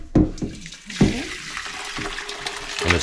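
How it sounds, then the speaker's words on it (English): Fireweed liquid is poured from a container into a bowl, giving a splashing, trickling stream with a couple of sharp knocks at the start and near the one-second mark, close and fairly loud. "All right, so now I'm going to pour."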